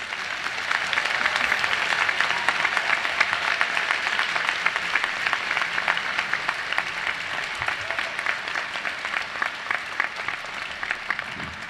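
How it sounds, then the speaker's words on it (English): Sustained applause from a large commencement audience at a medical school graduation ceremony, dense steady clapping throughout with no talk. "Let's have one more warm round of applause for Dr. Giuttani's truly inspiring commencem"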